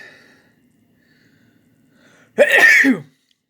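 A single sharp sneeze bursts out after a near-silent stretch, close and loud, then stops abruptly.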